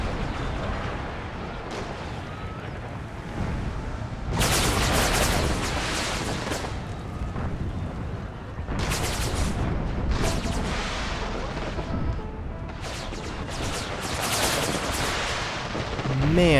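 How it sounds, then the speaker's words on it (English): Cannon fire and massed musketry boom through a Civil War battle game set at the First Battle of Bull Run. Loud, dense bursts of gunfire rise and fall in waves over a constant rumble. "Man, that artillery."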